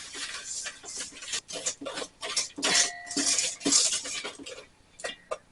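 An egg being mixed into cake batter with canola oil in a bowl: irregular clinks and scrapes of a utensil against the bowl, fairly close and moderately loud, with no talk.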